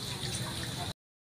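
Brief splashing and trickling as an air-filled bicycle inner tube is dunked in water to check for a puncture, close and fairly quiet, stopping abruptly.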